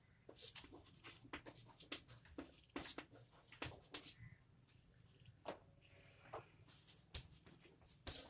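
Pen or chalk strokes are heard while a definition is written out by hand for a math lesson on geometric progressions: quick scratchy bursts in an irregular rhythm, faint and close, with no talking.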